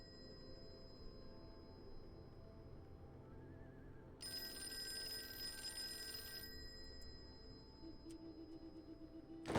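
Old telephone ringing in the Call of Cthulhu game, one bright, sustained ring burst of about two seconds over a faint hum, followed by quiet room tone.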